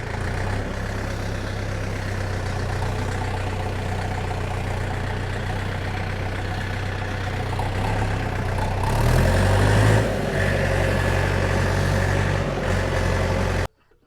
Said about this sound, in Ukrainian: Просто що шкода, косарку, що вона так гликає трактора.